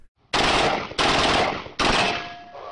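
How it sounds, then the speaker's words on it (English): A Kalashnikov assault rifle fired by contractors in Iraq: three loud, close gunshots in steady succession, each a sharp blast with a short ringing decay, and no talking. "American contractors in Iraq were firing a Kalashnikov assault rifle and apparently hit one of the rounds."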